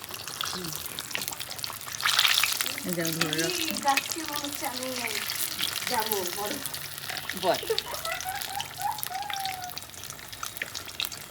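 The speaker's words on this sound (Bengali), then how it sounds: "চপ ভাজা হয়ে গেছে দেখুন চপ ভাজা হয়ে গেছে" Tomato chops fry in oil in a village kitchen, a steady soft sizzle running underneath close, continuous talking throughout.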